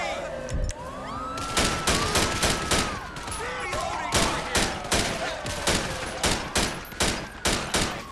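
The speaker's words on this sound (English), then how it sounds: "he just randomly started shooting" Rapid video-game gunfire in GTA 5 during a police patrol, with bursts of sharp repeated shots at a steady rhythm, loud and close, while a voice talks faintly underneath.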